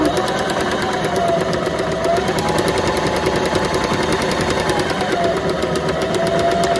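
Sewing machine stitching through paper, a steady fast mechanical chatter of the needle running continuously and close, with a faint whirring motor hum underneath.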